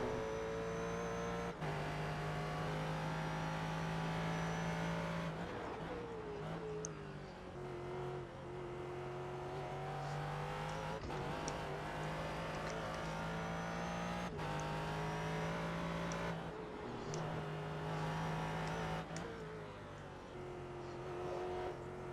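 A prototype race car in a racing video game screams at high revs, its engine pitch climbing and then dropping sharply at repeated gear changes and braking points, loud and alone throughout the lap.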